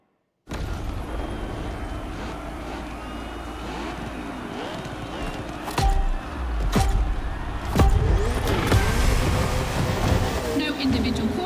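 A Ferrari race car engine revs in The Crew Motorfest during a circuit face-off against a Red Bull car. The engine drones steadily under rain-like noise, then rises and falls in rev sweeps, with a few sharp bangs toward the end.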